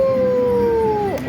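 Wolf howl sound effect from a slot machine game bonus, one loud sustained howl that slides slightly downward and breaks off near the end, heard alone.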